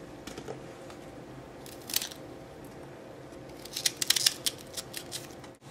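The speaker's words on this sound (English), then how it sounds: "We're gonna take this tip off, just like that, and then we're gonna cut them in half." Knife cutting fresh Brussels sprouts in half after trimming the tips, giving a few crisp, close snapping crunches, one near two seconds and a quicker cluster around four seconds, over quiet kitchen background.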